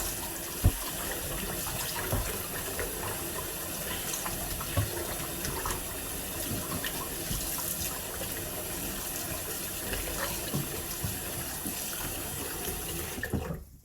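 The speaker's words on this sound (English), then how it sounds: "So we're just rinsing this all off." Tap water runs steadily into a sink while raw chicken is rinsed, a continuous close splashing flow with no talk.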